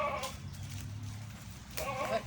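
A goat bleats twice, a short wavering call at the start and another near the end, over faint background murmur.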